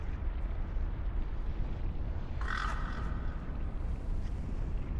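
A deepcrow, a bird creature in a video game, gives a single harsh caw lasting under a second over a low, steady rumbling ambience.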